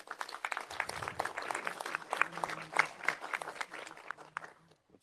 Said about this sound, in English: So how about another round of applause for our heart team?